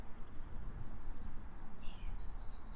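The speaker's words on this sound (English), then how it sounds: "the birds are really singing." Birds chirp and sing faintly in the distance over a steady rush of breeze, a few high calls scattered across the quiet outdoor evening air on an allotment before dark.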